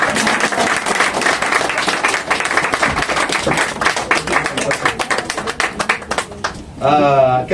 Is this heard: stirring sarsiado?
no